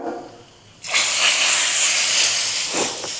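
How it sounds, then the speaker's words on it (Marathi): A hot tempering of oil with ajwain, asafoetida, turmeric and red chilli powder hits chickpea curry with a sudden loud hiss that sizzles steadily, close and alone, before easing slightly. "त्यानंतर हिंग हळद आणि अर्धा चमचा लाल मिरची पावडर कलरसाठी ही फोडणी आपण वरून देणार आहे"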